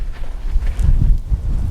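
Wind gusts over a microphone outdoors on a windy day during pony training, heard as a loud, low rumbling buffet that swells and dips throughout.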